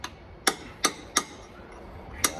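Sharp metallic hammer strikes land on a chisel set against a fan drive on a 1962 GM PD4106 bus. Five crisp, ringing taps come at uneven intervals in a quiet workshop.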